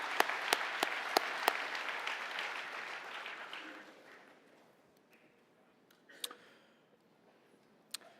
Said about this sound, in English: I know we gave them a round of applause, but let's go again one more time